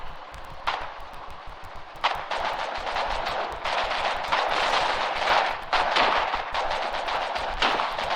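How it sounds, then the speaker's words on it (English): Gunfire in the Foxhole war game, rapid sharp reports and bursts of automatic fire crackling continuously, some shots close and loud, others more distant, with no talk over it. "I'm hearing gunfire, I'm hearing tank movement."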